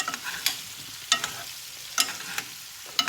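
Repeated scraping stirs breadcrumbs and parmesan in a frying pan, with sharp bursts of utensil against metal about every half second to second over a quiet, faint sizzle.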